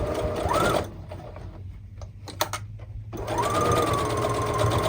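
Sewing machine back stitching fabric in straight stitch: a fast mechanical whirring runs, pauses for about two seconds with small clicks, then resumes and runs steadily.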